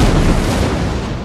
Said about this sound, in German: bereit zur Explosion